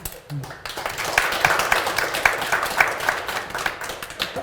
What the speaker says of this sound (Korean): 이 8분의 토론자 보신 거 환영의 박수를 부탁드리죠